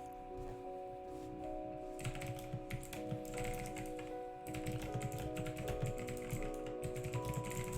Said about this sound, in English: I have a clicky keyboard, but I had a complaint on one stream that the keys were too loud.